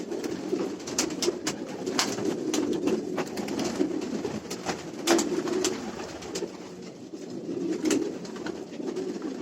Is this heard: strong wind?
no